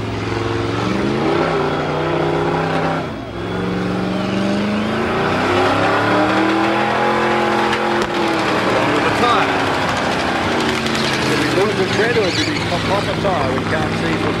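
A car doing a burnout on the donut pad at Summernats, engine held at high revs with wavering pitch and squealing tyres, loud and continuous for the whole stretch, with crowd noise and talk mixed in.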